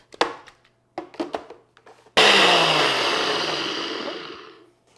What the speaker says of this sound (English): we are just gonna blend this until smooth